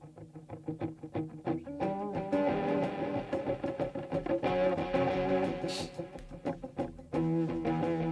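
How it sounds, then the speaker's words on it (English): Rock recording with slapback echo effect on a distorted guitar, a dense, loud band mix with repeating short echoes throughout. "Some slap back here, echo."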